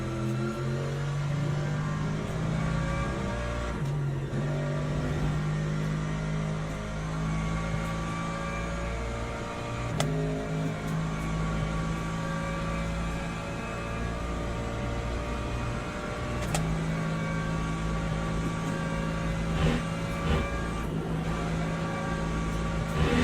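Race car in the sim game Le Mans Ultimate driving steadily to warm its tyres, a sustained engine drone with shifting pitch and occasional revs, continuous and fairly loud with no talking.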